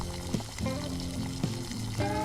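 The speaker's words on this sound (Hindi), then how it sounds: "ये देखिए पानी में अच्छे से उबाल आ गया है। अब हम इसमें अंडे डालेंगे।" Halved boiled eggs are dropped into boiling curry water for a dhaba-style egg curry. A steady, dense bubbling runs throughout, broken by a few brief splashy knocks.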